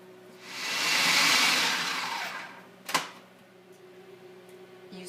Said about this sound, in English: put the soaked dates into the food processor